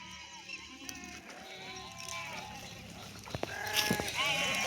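A flock of sheep bleats around a one-acre pond where they have been brought to drink, several overlapping calls near and far over a soft outdoor background with faint voices.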